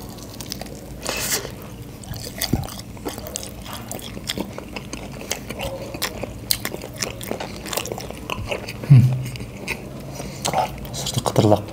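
Crispy fried chicken in sauce is bitten and chewed close to the mic, with sharp crunches scattered irregularly over steady mastication and a soft voice now and then.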